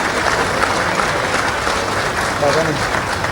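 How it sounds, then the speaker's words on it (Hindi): Loud, sustained applause from a large crowd at an official government event in Jagdalpur, a thick continuous roar of clapping with voices heard over and through it. "जोर से ताली बजाइए, तालियां बजती रहनी चाहिए।"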